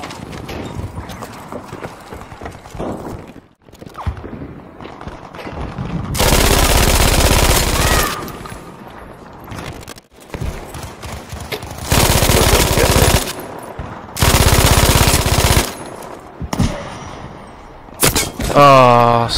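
Bursts of MG-42 machine gun fire in Battlefield 5, several long sustained volleys loud and close, separated by quieter battlefield noise with a player's voice talking in between.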